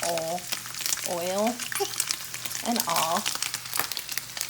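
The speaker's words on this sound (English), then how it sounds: "here's my andouille all fried up. I'm just gonna dump it in there, oil and all." Fried andouille sausage and its oil are poured into a gumbo pot, a rough sizzling crackle with scattered clatter running under intermittent talking.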